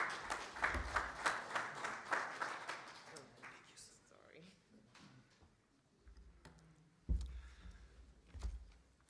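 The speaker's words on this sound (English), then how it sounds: "With a round of applause" An audience at an energy collaboration side event claps in a short burst of applause that fades after a few seconds, followed by someone speaking over a quiet room with a few thumps.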